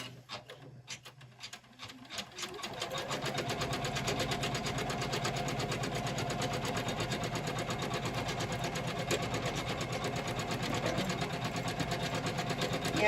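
Janome MC500e embroidery machine running with a fault, stitching on a towel in a magnetic hoop: a few clicks, then a loud continuous rapid mechanical clatter and whir that holds steady to the end.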